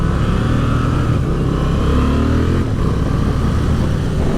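The twin-cylinder engine and exhaust of a 2023 Honda XL750 Transalp motorcycle rumble loudly and steadily, with a deep, throbbing growl and a slight rise in revs, heard close up without speech.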